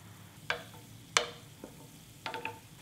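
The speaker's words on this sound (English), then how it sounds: "And then rest of the balls, let's fry. Just low heat." Chapssal doughnut balls (Korean sweet chewy balls filled with sweet red bean) frying in oil on low heat: a few soft, scattered crackles and sizzling pops over a faint background hiss, with no talking.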